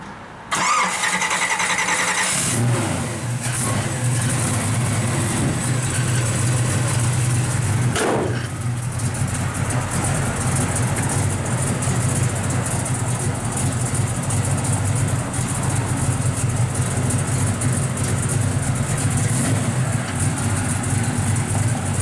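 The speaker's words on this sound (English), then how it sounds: "it's a strong running motor" A 1965 Chevrolet Chevelle Malibu SS with a big-block V8 fires up after a brief crank, then settles into a loud, close, steady rumbling idle with a rough throb, running alone without talk.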